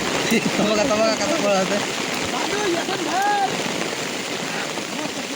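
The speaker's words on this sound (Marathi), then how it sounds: "पाऊस आला अचानक" Sudden rain falling outdoors near a rice field, a steady broadband hiss throughout, with people talking and laughing over it.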